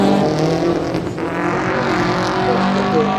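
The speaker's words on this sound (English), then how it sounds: "We've got 3 or 4 cars all weaving their way up it at the same time. It's a couple of escorts and a Peugeot." Several rally cars, a couple of Ford Escorts and a Peugeot, climb a hill together on a Seniors stage of the International McRae Rally Challenge, engines droning loud and steady throughout with no one talking.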